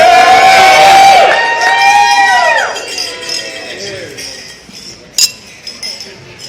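Glasses clink as guests drink a toast to a couple, with a crowd cheering and talking loudly at first, the noise easing off before one sharp, bright clink rings out near the end.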